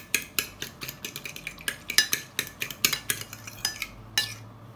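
A utensil briskly whisks banana fritter batter in a bowl, making a fast, loud run of rhythmic clicks and taps close by. The pace eases slightly toward the end, and no one speaks.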